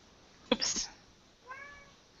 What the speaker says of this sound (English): You guys hear that little cat?